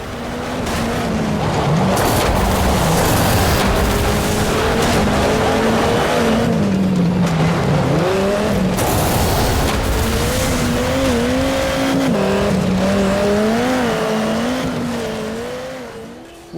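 Off-road racing vehicles roar around a track that is almost all mud in the 2006 game MotorStorm, with loud, continuous engines whose pitch rises and falls as they rev, and tires that squeal and skid, heard alone.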